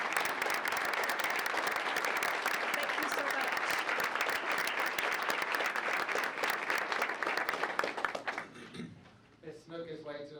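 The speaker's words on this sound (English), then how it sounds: "So if you will you just give them one round of applause?" An audience at a board meeting applauds students in a loud, steady burst of clapping that lasts about eight seconds before fading out into quieter room sound.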